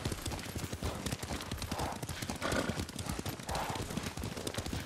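Rapid rhythmic clip-clop of horse hooves at a ride in Ghost of Tsushima, close and continuous, with a brief neigh-like rise amid the galloping.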